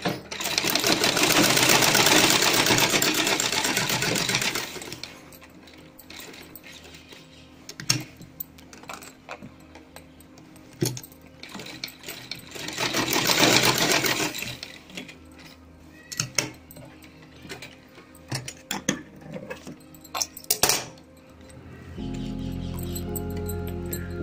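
A sewing machine stitches folded cloth for a drawstring shorts waistband in two loud whirring bursts, with quieter clicks, taps and handling noises between them and a low hum near the end.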